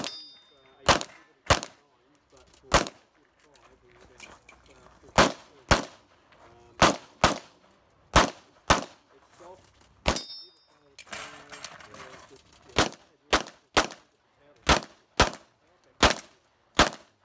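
Gunshots from an IPSC practical shooting stage run at a world shoot: sharp, loud single shots in an irregular rhythm, some fired in quick pairs, with short gaps for reloading and moving, heard alone without talk.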